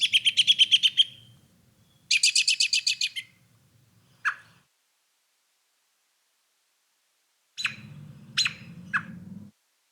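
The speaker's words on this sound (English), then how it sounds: "More likely you'll hear the whinny calls or various other calls like these." American robins give whinny calls during fall migration, with rapid descending bursts of high notes, a second run, then a few short sharp calls separated by pauses, heard alone and fairly close.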